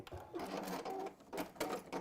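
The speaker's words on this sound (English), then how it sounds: "what's going to really help is if you actually stitch on the, you know, the elastic" A sewing machine stitches elastic onto fabric for a tablet cover, running in short bursts with brief pauses, close and fairly loud.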